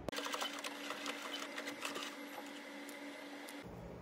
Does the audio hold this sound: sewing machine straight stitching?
yes